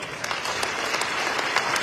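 Attendees at a foundation event for the Atlantic City mayor's forecast applaud, a short, steady burst of many hands clapping, close and continuous with no speech.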